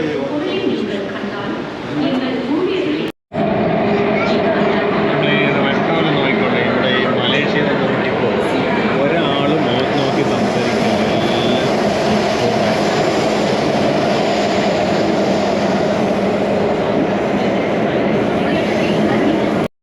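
A Singapore metro train rumbles steadily and loudly throughout, a dense continuous roar with a brief dropout near the start, while voices talk over it.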